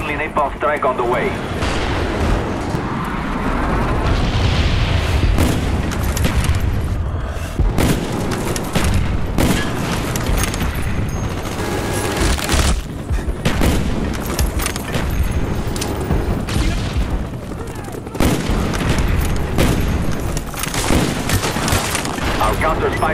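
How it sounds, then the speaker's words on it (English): Repeated heavy explosions and booming blasts from a napalm strike in Call of Duty: Black Ops multiplayer rumble through a loud, busy battle scene, with bursts of gunfire and voices talking over them. "Friendly napalm strike on the way."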